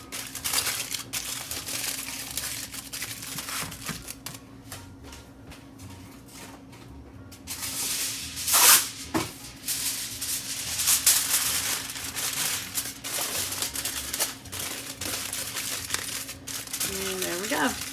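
Aluminium foil crinkled and crumpled up close while food is wrapped in it for oven baking, rustling bursts running steadily throughout as a person talks over it.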